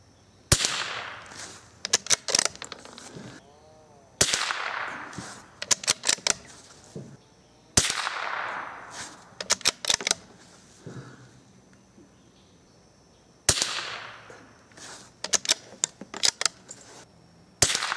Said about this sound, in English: here's five more rounds of 22 short, hollow point, high velocity. I'm going to aim at the bottom of the target.